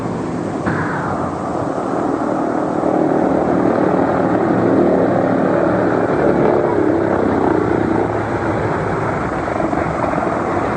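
Propeller aircraft built for short takeoff and landing, on a short, turbulent ridgeline airstrip in the mountains: a steady, loud engine and propeller drone continuing unbroken throughout.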